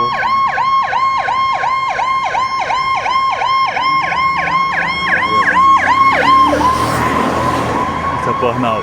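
Fire truck sirens in a Calgary street wail, cycling rapidly up and down, loud and fairly close, then shift into a rougher, noisier tone amid street noise.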